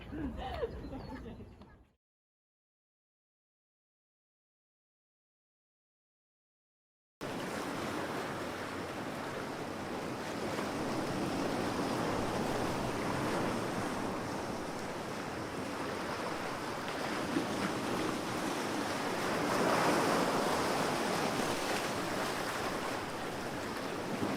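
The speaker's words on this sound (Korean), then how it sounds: "파도가 치는 바다." Ocean waves crash and wash continuously with wind across the shore, loud and sustained, after a brief stretch of talking and a few seconds of silence at the start.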